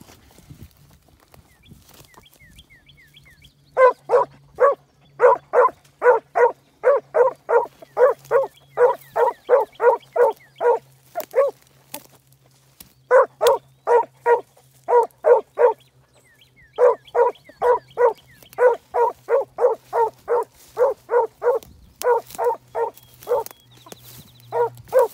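A field champion gun dog barks in steady rapid bursts during a hunt, loud and close, with short pauses between runs of barking outdoors.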